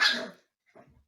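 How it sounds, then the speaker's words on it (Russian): A husky puppy hidden behind a sofa lets out one short, sharp bark close by, then gives a fainter, lower yip or grumble a moment later. "Спрятался за диван и лает."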